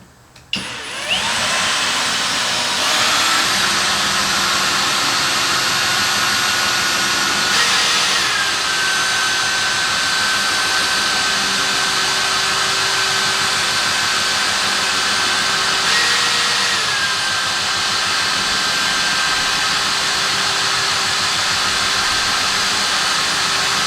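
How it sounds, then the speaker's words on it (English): A power drill runs continuously at close range during an overhead garage lift installation, a loud steady whine with slight pitch shifts as the load changes, no voices. "I'm going to use my drill."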